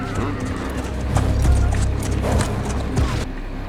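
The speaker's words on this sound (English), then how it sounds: "These poor horses did not want to be part of this bad show." Horses in a scene from the fantasy TV series Cursed clop their hooves and whinny nearby, mixed with voices talking.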